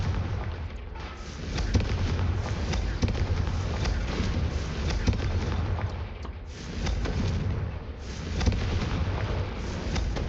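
Confringo fire spell blasts in the video game Hogwarts Legacy, a dense run of booming explosions and crackling impacts in quick succession, loud and continuous.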